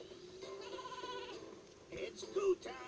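Sheep bleating in the Skylanders Trap Team video game: a wavering, nasal game-animal bleat runs through the stretch, fairly soft and close, with a brief louder burst near the end over a faint background.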